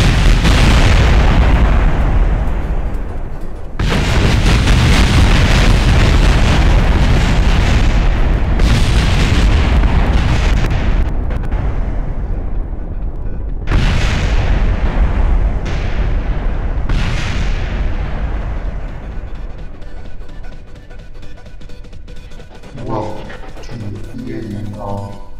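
Heavy explosions in the video game Kerbacide II boom repeatedly, loud and close, in several long crashing bursts with short gaps, ending in lighter crackling pops.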